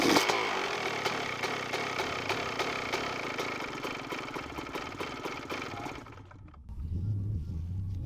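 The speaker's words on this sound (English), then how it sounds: "Now I'm going to fire up the bike, let it warm up" A two-stroke dirt bike engine runs and warms up, a steady buzzing idle with rapid regular firing pulses, loud and close, briefly dipping near the end before settling back into a lower rumble.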